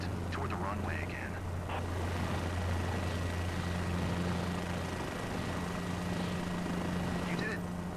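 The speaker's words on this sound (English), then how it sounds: "you will land from a hover while maintaining full control on the helicopter" Helicopter hovering in a flight simulator game, a steady low droning hum with a constant engine whine, running continuously under intermittent spoken instructions.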